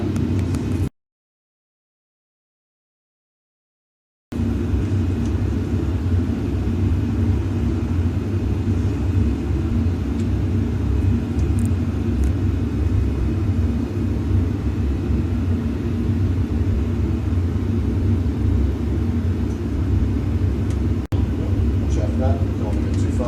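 A Boeing 737 in flight, its engines making a steady low cabin rumble throughout, interrupted by one brief dropout near the start, with faint voices at times.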